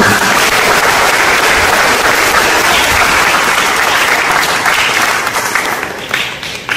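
A church congregation at a feast of Our Lady of the Rosary claps in loud, dense, sustained applause that fills the room, then thins and tapers off toward the end.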